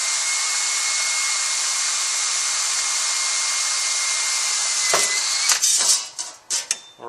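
A small 1/16 inch bit is drilled through a metal part, first a steady high whirring drone, then it stops and several sharp clanks and taps follow.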